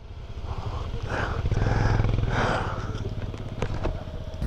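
Motorcycle engine idling and revving at Bum La Pass in cold, snowy high-altitude conditions, a steady low rumble that swells in the middle and stays moderately close, with faint wind-like hiss over it.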